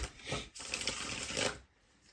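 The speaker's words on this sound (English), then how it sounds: "let me start shuffling these cards and show you more" Tarot cards are shuffled in a quiet room, producing a soft riffling and rustling texture of about a second and a half, fairly faint and close, with no talking over it.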